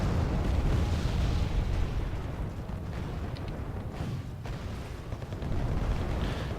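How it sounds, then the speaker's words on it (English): Napalm explodes over tanks in the Wargame Airland Battle video game, a sustained roaring, rumbling blast with a heavy low-end boom that dips briefly midway and then swells again. "Napalm dropping on tanks out, so do a bit of damage, force them out of hiding."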